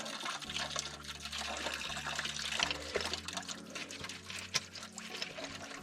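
Old fuel being poured into the tank of a Ford 2701E diesel grapple log loader left standing for years, a steady trickling pour with some clunks and handling noise, close to the microphone and without talk.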